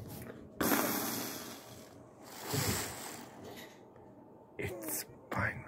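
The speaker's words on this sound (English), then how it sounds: "My dad's showering." Steady broadband hiss of a running shower fills the whole span, swelling in louder bursts and faint voices in between.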